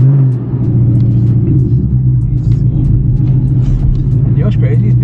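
A car rumbles nearby with a steady low engine drone that swells slightly as it pulls away from a parking spot, with faint other traffic noise in the background.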